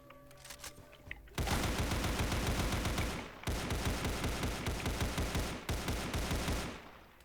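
Sustained bursts of rapid automatic video game gunfire, loud and close, in several long volleys separated by brief pauses, with a quiet lead-in before the shooting starts.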